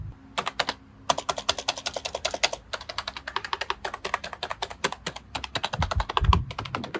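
Keys on an RGB computer keyboard click in quick, uneven bursts of typing, crisp and close, with brief pauses between runs and a few heavier thumps near the end; no one speaks.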